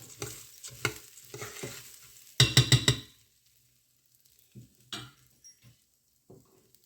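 Soaked rice stirred by hand in a pot for Jeera rice: several soft wet scraping strokes, close and moderately loud, with a burst of quick sloshing stirs midway, then sparse faint touches.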